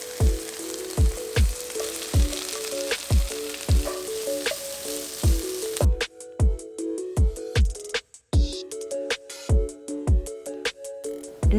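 Onions sizzle in a hot pan as the base for a creamy kimchi udon pasta, a steady close frying crackle running under a regular beat of background music.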